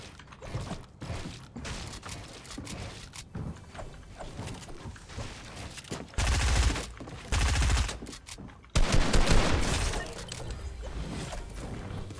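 Heavy automatic gunfire from the strongest weapon in a shooter game: rapid loud bursts in several sustained runs in the second half, broken by gaps, with mechanical clicks and creaks earlier.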